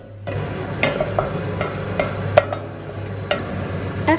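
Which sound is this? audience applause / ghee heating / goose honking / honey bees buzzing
ghee heating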